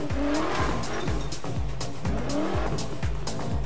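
A 1969 Ford Mustang Boss 302 in Need for Speed spins donuts, its engine roaring continuously while the tires shriek in repeated rising squeals, about six looping cycles, loud and close, with no voices.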